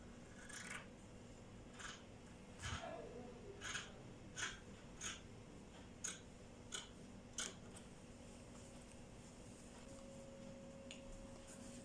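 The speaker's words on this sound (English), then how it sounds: "I'm cutting the back neckline first." Scissors snip through fabric along the back neckline of a kaftan being cut out, a series of separate crisp cuts at a steady rhythm, close and quiet, with no talking.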